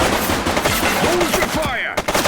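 Gunfire in the police game Precinct sounds amid a chaotic, loud mix, with shots blending into the dense clamor and a voice shouting over it.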